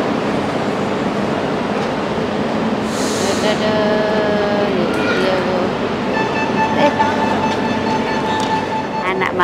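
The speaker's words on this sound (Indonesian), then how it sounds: "Nah, keretanya sudah datang." Metro train pulling into a busy weekend station toward Plaza Catalunya, a steady loud rumble of wheels and car noise with tonal squeals and electric whines rising midway, under faint voices.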